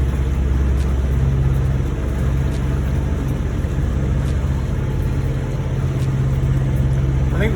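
Two engines of a boat drone steadily together on the approach to harbour during a sailing transit toward Miami, a constant low rumble with no break and no voices.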